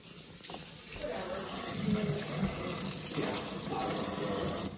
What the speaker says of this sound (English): Let me rinse this.